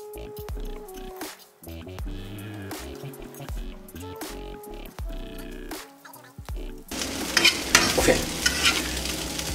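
Spoon stirring a small onion mixture in a pan over low heat, giving soft scrapes and clicks, before a louder, dense sizzle of frying takes over in the last few seconds.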